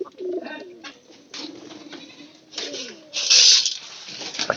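Pigeons coo in soft repeated throaty calls close by, with brief flutters and scuffles between them and a louder burst of noise near the end.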